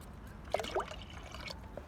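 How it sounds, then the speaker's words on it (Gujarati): Water is poured into a pot for boiling rice, giving a brief, faint splash and trickle near the middle of a quiet moment. "આપણે 6 ગ્લાસ જેટલું પાણી ઓસામણના ચોખા માટે મૂક્યું છે"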